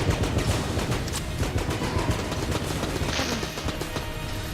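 Explosions and rapid gunfire in the bullet-hell game Enter the Gungeon, a dense, loud, continuous barrage of bangs and crashes with no talk over it.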